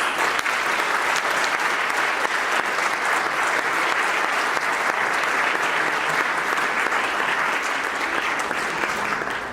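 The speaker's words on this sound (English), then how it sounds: "So please give him another round of applause." Sustained applause from an audience at a youth organization's annual fundraising gala fills the room, dense and steady from start to finish with no pauses.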